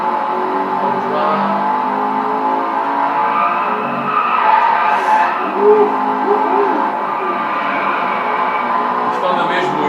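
A Maserati GT racing in the Driveclub video game, with a continuous engine drone and tire squeal through corners, steady and fairly loud with someone talking over it throughout.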